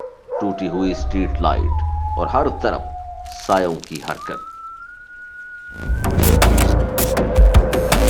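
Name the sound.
dogs barking at night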